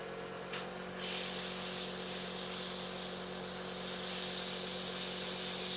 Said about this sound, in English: Now we are going just to clean airbrush a bit.